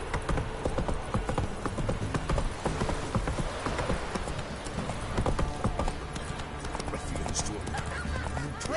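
Steady clip-clop of the horse Roach's hooves trotting through The Witcher 3, a continuous rhythmic patter mixed with game ambience, while someone speaks over the hoofbeats.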